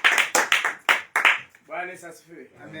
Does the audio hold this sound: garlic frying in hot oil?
no